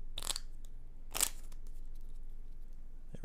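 Playing cards for Castles of Burgundy The Card Game being shuffled at a table, heard as two short, close, papery riffling bursts with quiet pauses between them and no talking.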